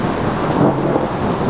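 A thunderstorm with a heavy downpour, a dense steady wash of rain with low rumbling thunder underneath, close and continuous through the short stretch.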